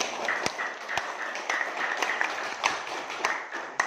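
Students clapping together in a junior high classroom, several loud sharp claps standing out over a busy spread of group applause for about four seconds.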